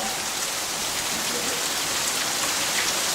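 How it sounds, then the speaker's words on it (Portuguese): Steady rain falls and patters on surfaces, a dense, even hiss that holds from start to finish without a break. "por que chove tanto assim"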